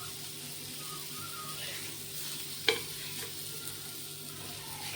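Surmai fish fries in oil in a pan, giving a soft, even sizzle and hiss, with one sharp tap of a utensil midway.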